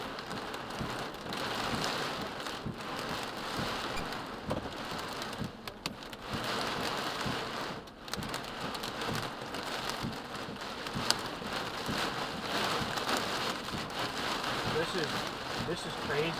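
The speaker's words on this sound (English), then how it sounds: "There's a hail." Rain and hail pour down steadily during a derecho storm in Oshawa, a dense, continuous roar of drops with brief gusty dips, heard from inside a vehicle while a person talks over it.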